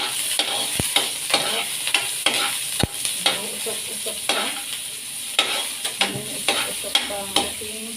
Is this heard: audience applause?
no